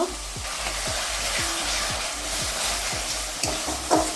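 Crab curry spice paste frying in oil in a pan over low heat: a constant close sizzle with regular scraping stirring strokes about twice a second, no voices.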